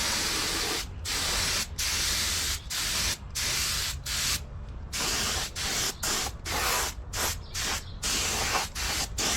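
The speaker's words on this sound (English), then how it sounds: "We'll get it mixed up and start spraying." A spray gun hisses in repeated bursts as it sprays paint mixed with a fast-dry reducer onto parts of a 1972 Honda CB500 Four motorcycle outdoors in cold weather, with short gaps between each pass.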